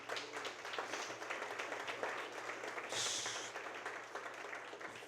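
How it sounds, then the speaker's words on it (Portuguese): A church congregation claps for the Lord during a family worship service, a soft, distant patter of many hands that carries steadily over the hall's background noise. "Dê uma salva de palmas ao Senhor."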